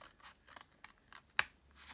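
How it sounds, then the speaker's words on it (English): Scissors snip through the folded edge of paper while making a zine, a series of quiet, close, crisp cuts in a quick rhythm with one sharper snap near the end. "So I've just got my pair of scissors and I've cut this folded edge."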